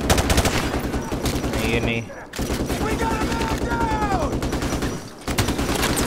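Sustained machine gun fire in Call of Duty: Modern Warfare Remastered, rapid rhythmic bursts with brief pauses and layered battle noise, under someone talking in Hindi.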